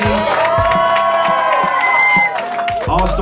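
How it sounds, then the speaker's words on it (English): An audience cheers and whoops for Rick Ross at a radio station backstage lounge, loud and continuous, with shouting voices and some clapping in the crowd noise. "Y'all give this man a big round of applause"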